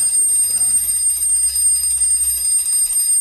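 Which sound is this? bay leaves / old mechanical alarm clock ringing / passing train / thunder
old mechanical alarm clock ringing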